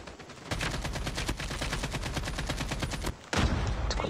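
Sustained rapid automatic gunfire in the mobile shooter Call of Duty Mobile, likely an AK-47, fires in a long continuous burst, stops briefly, then resumes with another loud volley.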